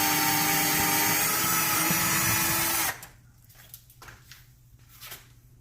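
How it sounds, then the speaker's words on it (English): Power drill boring pilot holes into a wall stud: a loud, close, steady whine for about three seconds that stops abruptly, followed by quiet handling knocks. "Now we'll drill some pilot holes"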